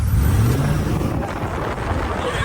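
A pickup truck engine revs hard as an off-road race against a Ford F-150 begins, a loud, close, rising roar that settles into a sustained rumble.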